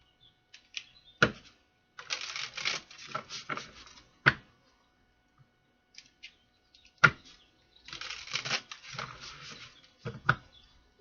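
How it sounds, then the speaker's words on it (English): Playing cards shuffled in quick riffling bursts, several separate shuffles with short pauses between them, close and moderately loud, with a few sharp taps and clicks, no talking. "One more shuffle."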